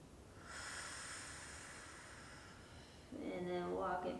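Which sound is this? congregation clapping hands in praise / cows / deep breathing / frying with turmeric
deep breathing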